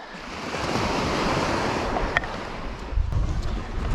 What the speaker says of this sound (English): there's a bit of wind skipping through there